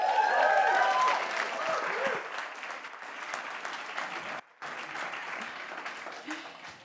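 Applause from a debate audience at Davos follows a speech, loud at first and then thinning to a steadier patter, with a brief dip near the end and a voice in the mix.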